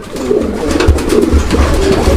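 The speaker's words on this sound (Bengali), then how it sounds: "তো দর্শক এটা গোল্লা কবুতর" Golla pigeons cooing at a bustling pigeon market, repeated soft low coos rising and falling close by, with a busy background murmur throughout and no clear speech.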